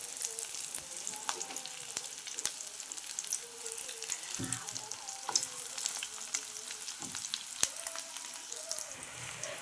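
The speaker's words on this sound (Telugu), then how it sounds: "ఇప్పుడు గుడ్డులు ఇంకా కొంచెం లైట్గా కాలిన తర్వాత అవన్నీ తిప్పదాం వేరు వేరు చేసి." Eggs frying in a pan for omelette pieces, a faint continuous sizzle with scattered light crackles and occasional soft scraping taps, no talking.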